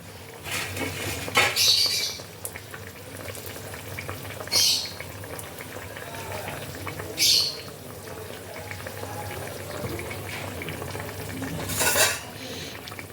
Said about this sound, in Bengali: ধনে পাতা কুচিটাকে ঝোলের সাথে ভালো করে মিশিয়ে নিতে হবে